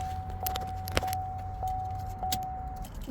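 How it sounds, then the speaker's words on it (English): Car keys on a ring jangle briefly as the key is pulled from the ignition of a vehicle with an ECOTEC engine, a few light metallic clinks close up over a steady low hum. "Just take the key out"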